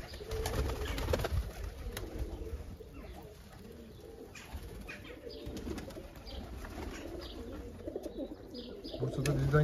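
Pigeons coo softly in an aviary, low repeated calls mixed with chirps and a brief flutter of wings, with a person talking quietly now and then.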